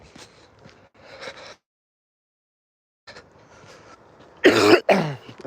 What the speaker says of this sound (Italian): C'è una tosse.